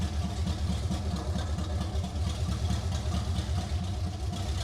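A C4 Corvette engine runs steadily with a rough, pulsing low rumble while a wheel spins, loud and close with no talk.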